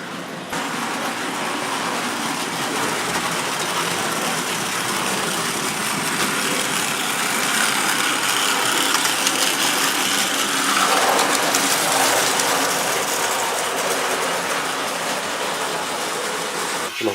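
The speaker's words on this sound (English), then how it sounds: "Locomotive was once a part of an alarm clock. I made it running on O-scale tracks." A clockwork toy locomotive built from an old alarm clock runs along O-scale tracks, giving a steady, dense whirring and ratcheting mechanical buzz that holds evenly and fairly loud throughout.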